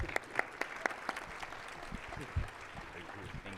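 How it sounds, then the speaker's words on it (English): Audience applause at a panel event on the future of work, honoring speaker Danny Moore; scattered, moderate clapping with a few sharper claps, fairly steady through the short stretch, with some voices faintly underneath. "Round of applause for Danny Moore"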